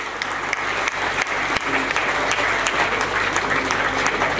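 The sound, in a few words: loud applause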